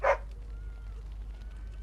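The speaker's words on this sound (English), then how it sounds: "Who's the cute and adorable puppy?" A single short bark from a mabari war dog puppy in the Dragon Age: Origins video game, fairly close and clear, followed by quiet background hum.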